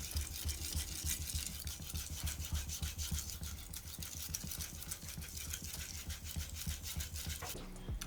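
A Japanese Hado Sumi knife edge is worked on a fine-grit whetstone in steady, rapid back-and-forth strokes, a close, continuous gritty rasping with no talk.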